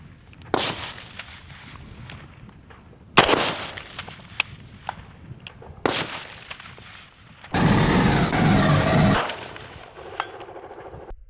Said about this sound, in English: We're going to do a quick burst, and then we'll do it in slow-mo.